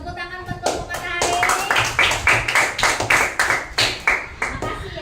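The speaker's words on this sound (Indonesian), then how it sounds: "Oke, tepuk tangan buat kelompok matahari." Children in a classroom clap together for the sun group after its presentation, a steady run of sharp, close handclaps with loose rhythm and some chatter mixed in.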